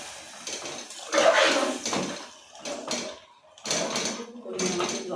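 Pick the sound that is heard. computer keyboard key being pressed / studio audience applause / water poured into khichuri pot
water poured into khichuri pot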